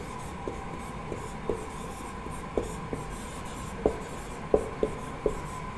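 A pen writes a line of text on a board or paper in a quiet room, giving soft scratching strokes and light taps in an irregular rhythm, close and faint.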